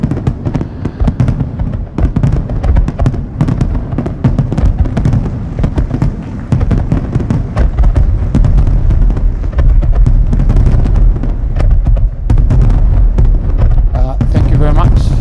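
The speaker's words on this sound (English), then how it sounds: "we have fireworks outside, you didn't tell me." Fireworks go off outside during an annual summit event, a dense continuous crackle of rapid bangs and pops rumbling steadily throughout, with voices audible beneath.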